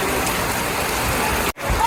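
Heavy rain pouring down at an outdoor cattle market, a steady loud hiss throughout with a brief dropout near the end, no clear talk heard.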